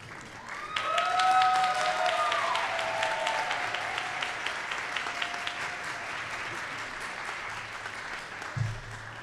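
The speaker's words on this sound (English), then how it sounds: "Let's give another round of applause to the students who received the Academic Department Awards." Audience applause fills a hall at a graduate awards ceremony, a steady broad wash of clapping that swells early and holds, with some faint voices and a brief bump near the end.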